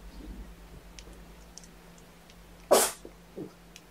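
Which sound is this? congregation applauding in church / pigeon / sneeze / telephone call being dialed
sneeze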